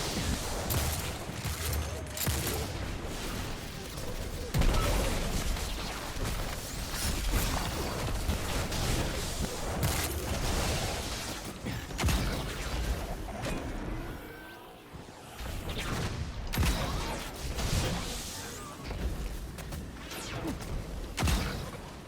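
Video game gunfire comes as dense, rapid bursts of shots and crashing impacts, fairly quiet overall, with only a brief lull partway through.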